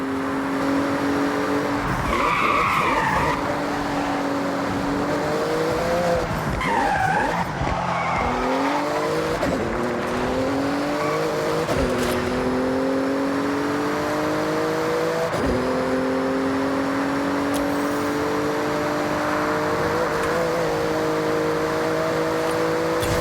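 A Porsche in the racing game Forza Horizon 6 roars through a speed zone on Japanese streets, its engine revving and shifting steadily while tires squeal and skid, loud and continuous with no talk.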